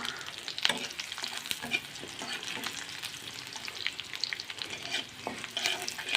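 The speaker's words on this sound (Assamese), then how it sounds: "এতিয়া মই এই পিঁয়াজ আৰু তেজপাতখিলা ৰংচোৱা হোৱালৈকে ভাজি থাকিম।" Chopped onion and bay leaves fry in oil in an old iron wok, giving a continuous crackling sizzle broken by frequent scraping stirs, close and fairly quiet with no talking.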